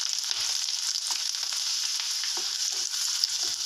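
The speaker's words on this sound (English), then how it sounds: "Let the garlic saute in oil." Finely chopped garlic sauteing in hot oil gives a steady, bright crackling sizzle throughout, with small pops and occasional stirring.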